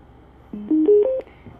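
A short rising sequence of four electronic beeps, the power-on tone of a BTS A2 Bluetooth speaker, each a step higher in pitch, clear and close in a quiet room.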